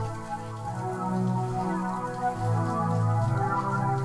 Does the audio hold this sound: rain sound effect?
yes